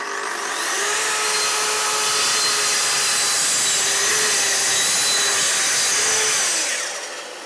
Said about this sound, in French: je peux maintenant brancher la machine, connecter l'aspiration et réaliser la coupe